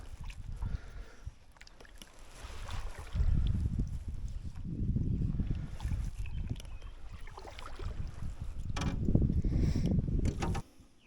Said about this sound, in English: You paddle on the left side, I'll paddle on the right side, and we're just gonna go super duper slow.